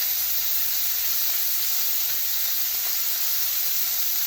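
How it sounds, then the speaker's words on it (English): A steak frying in a stainless steel pan gives off a continuous, bright, even sizzle, a steady hiss with no talk over it. "Listen to the singing steak."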